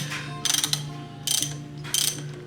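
A socket wrench ratchets on the 1 1/8-inch left-hand-thread nut of a Shovelhead FLHT motorcycle, three short bursts of close, crisp pawl clicking separated by pauses, with no talk.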